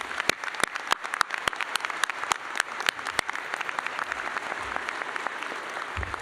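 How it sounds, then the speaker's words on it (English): Sustained applause from a commencement audience at a veterinary medicine graduation ceremony, a dense, steady patter of many hands clapping with some sharp individual claps standing out, loud and close, with no talking over it. "One more round of applause for them"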